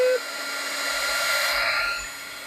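A dryer blowing over a watercolor painting, a steady whirring airflow that swells slightly and then eases, close and fairly loud, following a brief tonal beep at the start.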